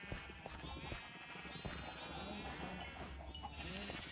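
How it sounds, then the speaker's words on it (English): Sheep bleating in Minecraft, a few faint calls over low background game sounds. "And we breed sheep."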